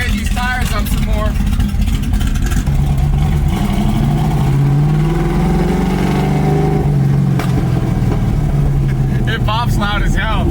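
Modified 1965 Ford Mustang engine revving hard under constant road and engine noise, with speech over the top and sharp exhaust pops near the start and end.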